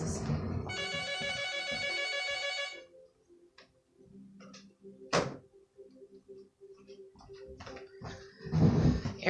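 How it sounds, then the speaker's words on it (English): A telephone rings indoors in a repeated electronic trill lasting a couple of seconds, then stops, followed by scattered clicks and knocks and a later burst of noise. "Oh, the phone's ringing."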